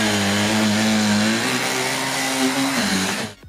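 A Jimmy HW11 Pro hybrid cordless stick vacuum with its motorised brush head grinds into a sofa, a loud steady mower-like whine with shifting pitch that cuts off abruptly at the end.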